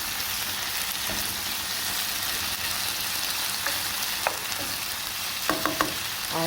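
Creamy coconut bean pasta cooks in a pot, giving a steady, even sizzle and bubble at close range, with a few faint clinks near the end.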